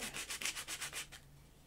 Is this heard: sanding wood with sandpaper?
yes